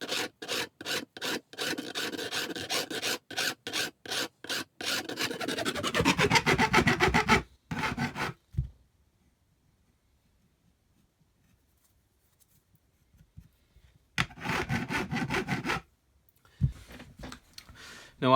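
A file rasps in quick repeated strokes across the frets of a 1973 Fender Stratocaster neck, loud and close with a steady rhythm, then stops; after a long quiet stretch a second short burst of filing follows.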